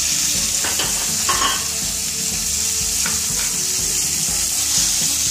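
Kashmiri chili and cumin seeds sizzle steadily in hot oil, a dense, loud frying hiss running throughout with occasional stirring scrapes of a spoon in the pan.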